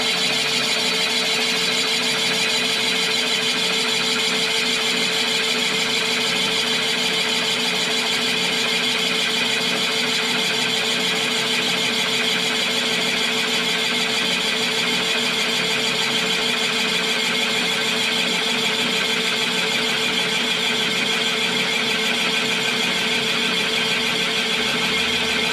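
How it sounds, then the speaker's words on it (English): An engine cylinder boring machine running steadily, a constant loud mechanical whir with a fast rhythmic hum that continues unchanged throughout, close by and with no talking. "when it gets down to the bottom of the borer, it pushes this over and turns the machine off"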